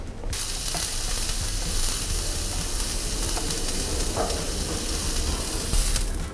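Sea bream fillets sizzle and spit steadily in a hot frying pan, a dense, even crackle of frying that holds at close range throughout with no one talking.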